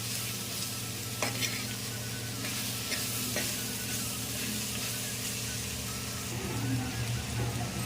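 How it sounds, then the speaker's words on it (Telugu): Small tomatoes and green chillies cook in a pan, giving a steady, even sizzle of frying with occasional scrapes of stirring throughout, and no one speaks. "టమాటోస్ కొంచెం మెత్తబడేదాకా నేను కొంచెం కుక్ చేస్తున్నాను"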